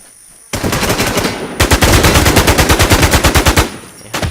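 Loud automatic gunfire in a shooter video game, starting abruptly as a dense burst and then continuing as rapid evenly spaced shots in a sustained volley that tapers near the end.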